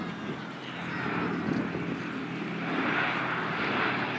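Piston engines of the B-17 bomber Sally B, droning steadily at an outdoor air festival, a broad continuous roar that swells slightly and stays at moderate distance throughout.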